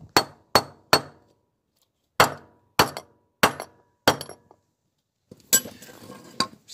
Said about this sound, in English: I'm just going to pop in my little coach bolt there, give it a few taps